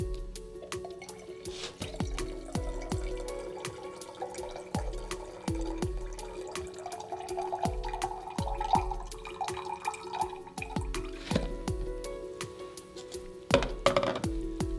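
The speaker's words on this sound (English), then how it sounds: "take the flask, and pour any excess water straight back out again" Excess water splashes and drips intermittently as it is poured out of a flask into a sink or container, with a short louder pour near the end, close and fairly quiet.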